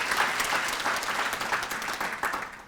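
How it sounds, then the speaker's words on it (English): A room of guests at a Cesar Chavez legacy luncheon in Lansing applauds the servers, a dense, steady burst of many hands clapping at moderate distance, without voices. "let's just give a big round of applause for all the wonderful servers and the folks behind the scenes"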